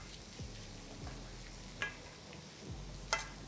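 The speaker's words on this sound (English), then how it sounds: "I'm gonna leave it for about 25 minutes on medium heat, just to let the bottom really go nice and crispy" Grated potato rösti frying in a pan on medium heat, a low steady sizzle with soft crackles and a few faint scraping touches, quiet and continuous.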